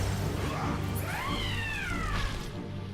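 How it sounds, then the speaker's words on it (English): An angry cat in the online game Final Fantasy XIV lets out a drawn-out, rising-and-falling meow, single and fairly clear over steady background game sound. "Meow. Sounds like an angry cat."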